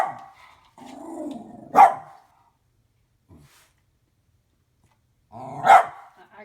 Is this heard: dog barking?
yes